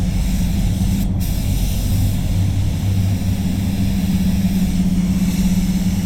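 Steady hiss of a spray gun laying red basecoat onto a Mazda 6 in Velocity Red, a continuous loud broadband spray with a low hum beneath, no pauses.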